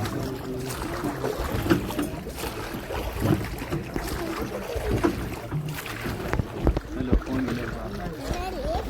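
Boat ride on the Kaveri river at Ranganathittu Bird Sanctuary, a steady rumble of the boat and water churning under wind noise, with people talking throughout close by.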